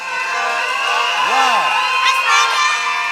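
A large Filipino crowd cheers and shouts at a beauty pageant, a dense continuous roar with whoops and yells rising and falling, one loud swooping cry standing out midway.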